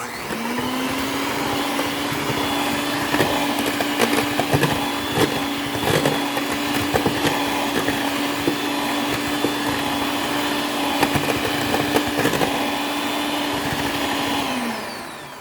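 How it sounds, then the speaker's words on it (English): Electric hand mixer creams banana cake batter in a steady, loud whirring drone that runs for about fourteen seconds with faint scraping against the bowl, then winds down at the end; nobody talks. "So I have here my electric hand mixer."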